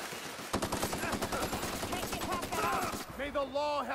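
Rapid automatic gunfire from a gun in the shooter game The Outer Worlds, a steady stream of loud close shots for about two and a half seconds, then a pause followed by softer game effects.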